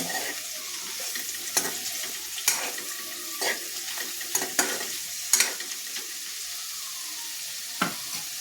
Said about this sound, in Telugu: కాకరకాయలు వేసుకున్నాం కదండి ఇప్పుడు ఒకసారి తిప్పుకుందాం